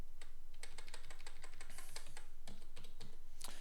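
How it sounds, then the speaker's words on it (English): Typing on a computer keyboard during chess game analysis: rapid, irregular clusters of crisp key clicks, close and fairly quiet, with a steady low hum beneath. "press the wrong key on the keyboard"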